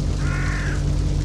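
Crows cawing in the horror game Shutter, a single close, hoarse caw over a loud, steady low rumble of ambience.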